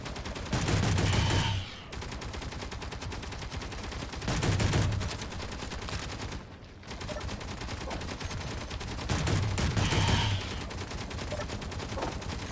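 Automated turret shooting at a bug in the video game Escape From Pertam: sustained rapid-fire bursts rattling almost continuously, with brief pauses and swelling louder stretches, fairly close and without talk.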